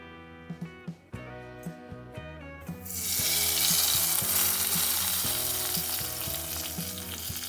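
Liquid poured into hot oil with fried shallots and dried red chillies for a Kerala dried prawn and raw mango curry, a few clinks and stirs, then a sudden loud, steady, hissing sizzle that fills the rest.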